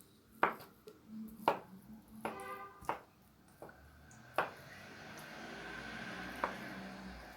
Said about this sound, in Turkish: patateslerimizi küçük küçük doğruyoruz